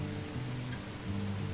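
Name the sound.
rain in video game Railroads Online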